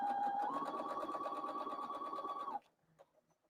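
A sewing machine runs steadily for a couple of seconds with a rapid, even mechanical whir, then stops abruptly, leaving a few faint clicks.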